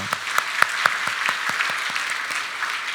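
A church congregation applauds steadily during a Sunday service, a continuous patter of many hands with a few sharper claps standing out.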